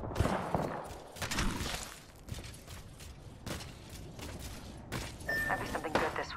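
Gunfire in the Apex Legends video game comes as scattered bursts of shots and thuds, fairly quiet and somewhat distant, with faint voice-like sounds mixed in.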